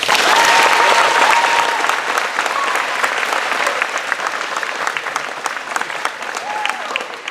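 Sustained applause from a sizable audience at an eighth grade promotion ceremony, dense clapping that starts loud and stays strong, with a few faint voices mixed in.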